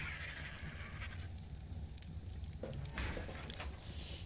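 Sheep bleats in the video game ARK: The Island, a few short cries rising over a steady background of low in-game ambience and rumble, with no speech.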